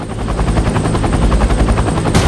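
A support helicopter in a combat video game gives off a loud, fast, even thudding of rotor blades that continues steadily at close range.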